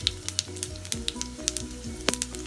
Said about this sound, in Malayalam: എണ്ണ ചൂടായിട്ട് ഇതിലേക്ക് നമുക്ക് കടുക് ഇട്ട് കൊടുക്കാം.